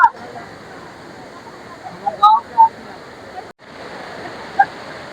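The Akashganga waterfall at Vashistha ashram in Guwahati pours with a steady, broad rushing hiss that runs almost without a break, with a few brief higher sounds rising over the water.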